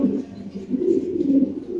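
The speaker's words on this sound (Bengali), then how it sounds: "আচ্ছা এখানে আছে এক পিস মুন্ডিয়ান কবুতর" A Mundian pigeon at a fancy pigeon farm coos close by, low, throaty rolling notes repeating in a soft continuous rhythm, with no speech over it.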